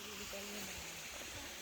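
A stream flows steadily along a rural path where donkeys are brought to drink, its soft gurgling wash continuous throughout, with a faint tonal whine overlaid briefly near the start.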